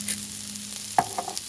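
Vegetables sizzle on a tray over a Gas One GS-2000 camp stove, making a steady, close frying hiss with a few scraping stir clicks near the end and no voices.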